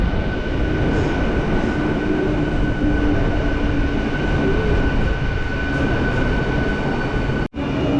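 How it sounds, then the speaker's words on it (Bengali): A local train from Howrah pulls into Digha station, a continuous loud rumble of carriages and wheels heard from on board, steady throughout with a brief dropout near the end. "আমাদের ট্রেন ঢুকলো"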